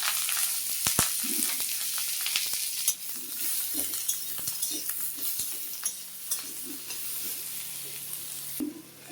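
Chillies and onions fry in a little fish oil with nigella seeds, a soft steady sizzle broken by repeated scrapes and clinks of a spatula stirring in the pan.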